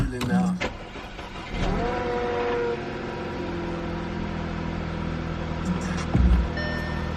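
An Audi A4 B8 car engine, parked unused for a while, cranks briefly, catches, and settles into a steady idle, with a short clunk near the end.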